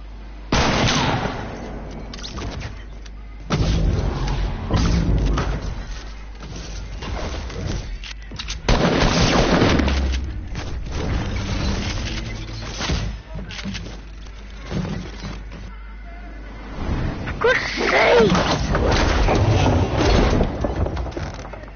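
Volcano eruption in the Fortnite video game, heavy booming rumbles and thudding blasts that roll on almost without a break, loud and dense, with people talking over the noise at times.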